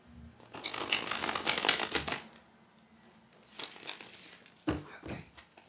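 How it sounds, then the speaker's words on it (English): Tarot cards are shuffled by hand in close, crisp riffling bursts. One long rustling shuffle is followed by two shorter ones, with quiet pauses between them. "One more shuffle."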